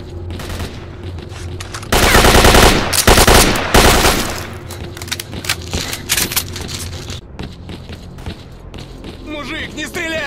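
Rapid automatic gunfire bursts in the shooter game S.T.A.L.K.E.R., loud and dense for a few seconds, followed by scattered single shots and thuds while game characters shout and talk.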